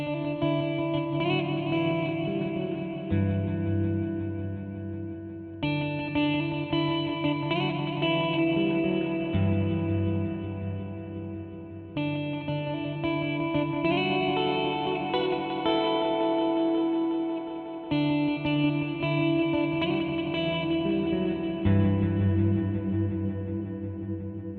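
A guitar runs through a Death by Audio Destroyer Series pedal set to stereo ping-pong delay, repeated chords echoing in loud, evenly spaced phrases with a dense, washy tail, no talking.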